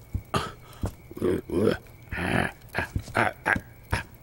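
A man mimics a playful puppy with a quick run of short, breathy yips and little barks, about eight close, fairly loud bursts over four seconds with brief gaps between them.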